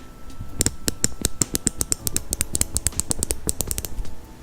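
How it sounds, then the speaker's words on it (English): An Olsa Tools 90-tooth ratchet clicks in a quick, even series of sharp, close metallic ticks, about twenty in a row with no talking. "I'll let you hear the 90 tooth on the Olsa Tools"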